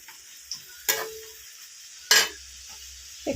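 Spices and egg curry being stirred in a pan, with a couple of sharp scraping strokes against the metal over a faint background sizzle and long quiet gaps between them.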